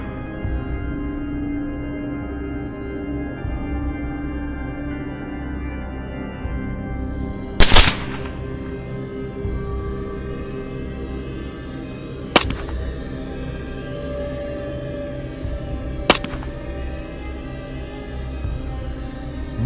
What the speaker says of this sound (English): we aimed accurately at the vital spot and pulled the trigger